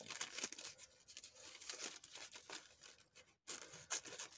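Cutting a strip of Tim Holtz collage paper, a steady close rasp of paper being sliced and rustled, with a brief pause near the end before it resumes.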